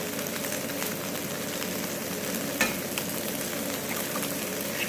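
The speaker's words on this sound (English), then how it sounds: "add a tiny bit of oil because I'm going to scramble my egg" Egg scrambling in a little oil in a pan beside stir-fried Singapore beef noodles, a soft continuous frying hiss at low level with a faint clink partway through, no talking.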